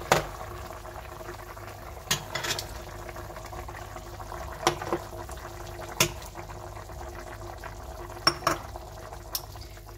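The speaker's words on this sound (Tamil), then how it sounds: "இந்த டின் ஃபிஷ்ஷை இதோட கலந்து அவிய விடுவோம்." Tin fish curry with fish pieces bubbles and simmers in a pot, a steady low boil broken by a few sharp clinks of the pot and spoon.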